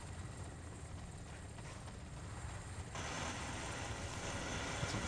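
A helicopter in the Modern Mod video game, during an attack on a military airbase: a continuous broadband rotor and engine roar that swells louder partway through, with no speech.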